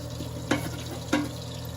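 Chicken thighs fry in oil in a pan with a steady close sizzle, broken twice by brief clicks as pieces are moved or flipped.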